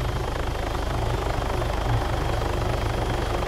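Helicopter in the Arma 3 video game, a steady low rotor thump and engine drone flying overhead, loud and continuous with no one speaking.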